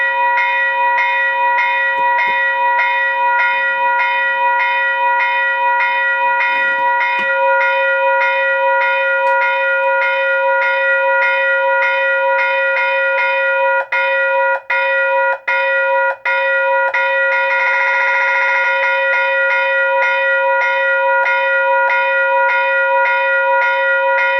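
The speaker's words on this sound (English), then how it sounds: "set off my Western Hayes Type-3 electronic bell" A Western Hayes Type-3 electronic bell rings continuously and loudly, its sustained tonal ring holding steady with a few brief dropouts partway through before resuming.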